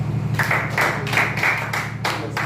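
Students and onlookers in a college classroom clap together in a quick, regular rhythm of sharp bursts over a steady low electrical hum.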